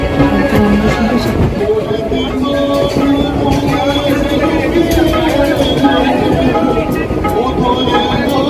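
A local train ride out of Barasat railway station carries a continuous loud rumble and rattle of the moving carriage, with indistinct voices mixed into the noise.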